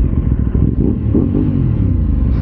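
Aprilia RS660 Extrema sport bike engine running close by, a steady loud low rumble with slight throttle swells and an uneven, throbbing texture throughout.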